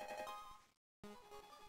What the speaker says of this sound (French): j'ai marqué 2 nouveaux appels sur mon téléphone alors que ça a sonné qu'une fois